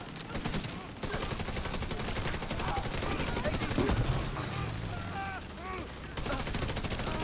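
Rapid video-game gunfire in a firefight, dense bursts of shots rattling continuously over a busy mix of effects, with voices faintly present underneath.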